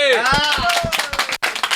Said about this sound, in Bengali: আরেকবার হাততালি দিয়ে শেষ করে